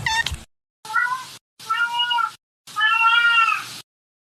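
A pet cat meows four times at close range, a short first call followed by three longer, rising, plaintive meows separated by brief silences.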